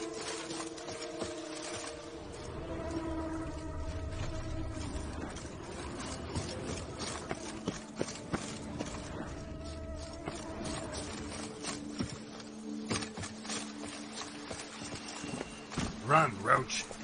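The horse Roach galloping in The Witcher video game: rhythmic hoofbeats drum steadily under game music, with people talking over them in places.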